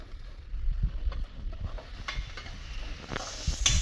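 Avarekai field beans frying and being stirred in a pan, giving a steady close sizzle with scraping spatula strokes and a few light clinks throughout.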